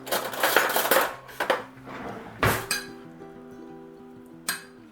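A spoon clinks and scrapes against a dish while scooping sticky lentils and rice, giving several quick close metallic taps followed by quieter scraping and a last light clink.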